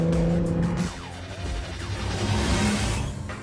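A Honda NSX hybrid supercar driving hard, engine note dropping then rising again, mixed with road roar and a brief tire squeal, fairly close and loud.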